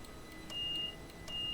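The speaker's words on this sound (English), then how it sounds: "Buzzer codes, whatever you want to call it." Short, clean electronic beeps of a conductor's buzzer code in the cab of a class 377 train in Train Simulator 2020 sound twice, each lasting under half a second, over a low rumbling cab and track noise.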